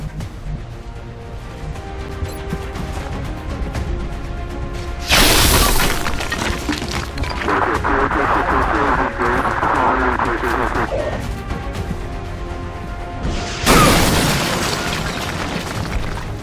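Rockets launch and explode in a video game, with two loud bursts of crashing, shattering impact breaking over continuous rumbling battle noise and a voice talking.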